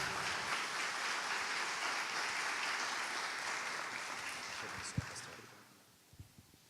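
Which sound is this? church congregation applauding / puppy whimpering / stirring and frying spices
church congregation applauding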